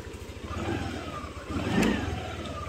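A Honda Aerox scooter's engine revs up twice, mid-pitched and steady, with the second rise louder and held, heard close and alone.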